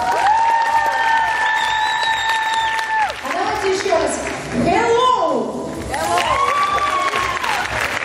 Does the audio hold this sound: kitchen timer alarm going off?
no